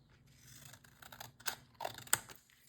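Scissors trim paper for a handmade hymn journal, giving a few quiet, close snips and crisp paper rustles in an otherwise hushed room.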